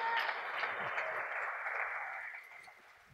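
Church congregation applauding during a Spanish-language sermon, a dense steady wash of clapping that fills the room and gradually fades toward the end.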